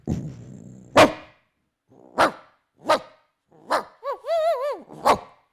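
A voice mimics the strong bark of an expensive dog, giving a series of close, forceful woofs spaced about a second apart, with a brief warbling, growl-like howl near the end.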